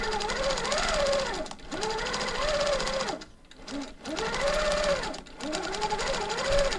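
Close, fast rattling stitches from a sewing machine doing free-motion feather quilting with a hopping foot, running in long bursts with brief pauses between passes.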